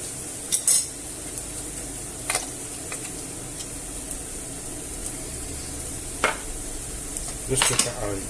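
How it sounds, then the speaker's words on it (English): Tuna and tomato pasta sauce with sweet paprika being stirred in a pan, a soft steady sizzle with a few sharp clinks of a utensil against the pan. "Just give that a mix about."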